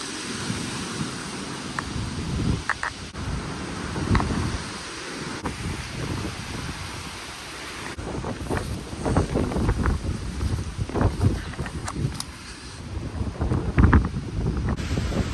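Strong storm wind blowing at an outdoor centre, a steady roaring gust buffeting the microphone, with scattered knocks and rattles under it.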